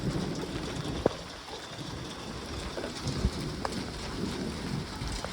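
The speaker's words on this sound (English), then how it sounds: "It's raining pretty good right now." Steady rain patters in a continuous hiss outdoors near an ultralight aircraft, with occasional sharper drips and knocks standing out faintly from the wash.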